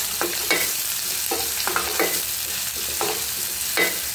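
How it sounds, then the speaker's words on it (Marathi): Finely chopped onion frying in a pan for a Marathi kolim shrimp recipe, a continuous sizzle broken by repeated scraping stirs at an irregular rhythm. "आता या मी हा एक मीडियम आकाराचा बारीक कापून घेतलेला कांदा घालत आहे।"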